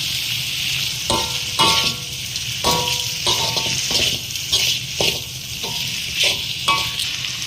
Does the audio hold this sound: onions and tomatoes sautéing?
yes